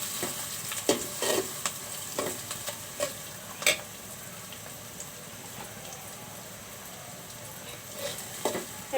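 Cloves and crushed small green cardamom fry in oil in a pan for a duck curry, giving a soft continuous sizzle with scattered sharp crackles and a few clinks of stirring, fairly quiet and close.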